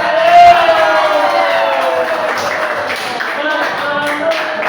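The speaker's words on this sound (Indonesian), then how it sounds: "Oke, tepuk tangan dulu." Students in a classroom clap in a loud group round, a busy patter of hands under overlapping chatter and a few shouts.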